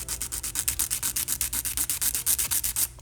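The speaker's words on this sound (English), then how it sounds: "I'm just going to quickly take Kiara Sky's 100-100 grit hand file and go ahead and shape the nail just a tiny bit." Kiara Sky 100/100 grit hand file rasping steadily across a gel nail tip, a close, even run of quick back-and-forth scratchy strokes with no talking.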